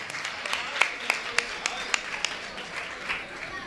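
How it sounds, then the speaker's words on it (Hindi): An audience claps in a room: a steady patter of hands with sharper individual claps standing out, running on for a few seconds and mixed with a voice talking. "चलो बहुत बढ़िया, जोरदार तालियां बजाइएगा"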